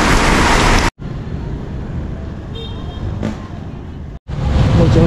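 Steady broadband hiss of heavy rain pouring down, constant and close, with brief cut-offs; a faint passing hum in the background.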